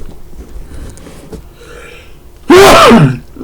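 After a few quiet seconds, one sudden, loud sneeze bursts out close to the microphone.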